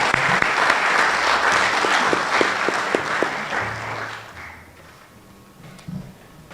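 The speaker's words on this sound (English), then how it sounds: "could we get them a round of applause for the music that we were playing here" Concert audience at a school strings performance applauds loudly for several seconds, with a few sharp individual claps standing out, then the clapping fades to near quiet.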